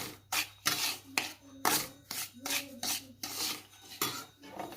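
A spoon stirs rava (semolina) in a pan on the stove for laddu, making repeated scraping and rubbing strokes against the metal in a steady back-and-forth rhythm, close and moderately loud.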